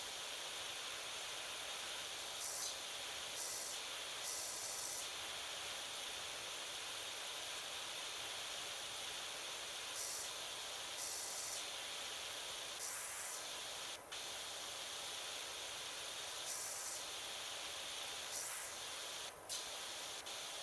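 Steady broadband spray from a pressure washer in the PowerWash Simulator video game, a continuous hiss with slight rises and cutoffs at intervals, with no voices.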